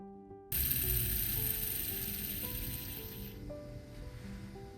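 A fountain pen's spinning section whirs with a light, fine mechanical ticking and ringing hum that starts abruptly and slowly winds down, close and quiet, with no voices.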